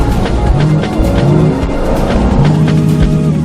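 A gas-powered car in a commercial sound effect drives hard and skids, with a loud, steady engine drone and several sliding tire-squeal tones that rise and fall throughout, close and dense with no talk.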